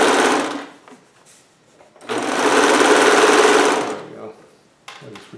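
Sewing machine stitching the edge of fabric for a Hawaiian shirt, set on cardboard so it bounces. Two loud runs of steady rapid whirring with a pause between and a brief restart at the end.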